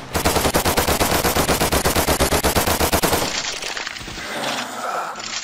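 Rapid automatic gunfire from an offline Android shooter game hammers out in a fast, even burst for about three seconds, then breaks off into scattered crashes and softer game noise.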